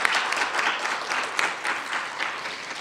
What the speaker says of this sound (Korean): 박수 올려드리도록 하겠습니다